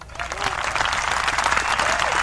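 Applause on a sports talk show rises quickly and holds as a dense, fairly loud patter of clapping, with faint voices mixed in underneath.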